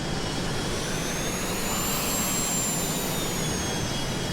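Business jet engines idling steadily as the aircraft taxis in Microsoft Flight Simulator 2020, a broad continuous roar with a high whine, constant and loud throughout with no talk.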